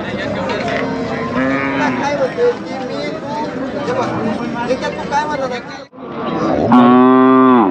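A calf at a busy cattle market lets out loud moos, the clearest a long harmonic bellow near the end, over a constant babble of talking voices.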